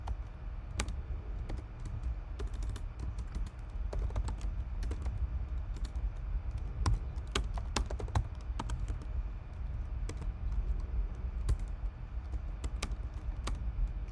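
Steady typing on a computer keyboard while solving coding problems, with irregular clusters of close, crisp key clicks over a quiet background hum and no speech.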